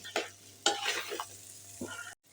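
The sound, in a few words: onions frying and being stirred in a pan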